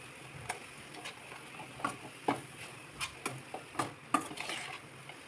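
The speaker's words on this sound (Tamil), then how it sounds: "இப்போ வந்து நல்லா மிக்ஸ் பண்ணிக்கிட்டு ஒரு 5 மினிட்ஸ் இந்த மாதிரி நல்லா ஹை ஃப்ளேமில் வச்சு பண்ணிக்கோங்க" Momo filling stirred in a pan over high flame, a steady frying sizzle broken by a loose series of sharp spatula scrapes and taps against the pan, close and fairly quiet, with no talking.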